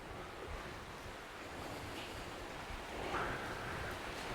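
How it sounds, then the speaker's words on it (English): Heavy rain pours down outside a chapel in a graveyard, a steady broadband hiss with wind noise buffeting the microphone, loud and continuous throughout with no voices. "Unfortunately outside it's pouring down with rain"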